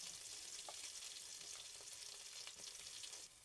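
Crushed chillies, curry leaves, garlic and shallots fry in hot oil with a quiet, steady sizzle and faint crackles and pops, and no one speaks.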